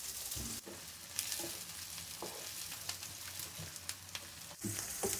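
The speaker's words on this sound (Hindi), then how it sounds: "हम उसी ऑयल के अंदर प्याज को फ्राई कर लेंगे।" Onions frying in oil for a chicken pulao, with a steady close sizzle and occasional stirring scrapes against the pan throughout; no one speaks.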